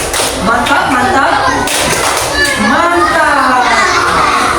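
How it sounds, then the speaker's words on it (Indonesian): Schoolchildren in an elementary school class clapping hands in rhythm, sharp claps mixed with children's chanting voices, loud and close throughout. "Tepuk tangan. Tepuk mantap."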